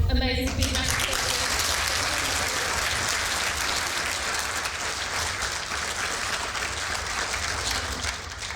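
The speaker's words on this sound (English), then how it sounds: "let's give an amazing big round of applause" Large audience applauding at an evening lecture on oceans and climate, a loud sustained wash of clapping hands that fills the room, with a brief voice at the very start before the clapping takes over.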